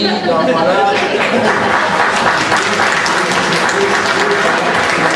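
Loud audience applause in a crowded room, dense clapping mixed with chatter and light chuckles, while someone speaks briefly over it.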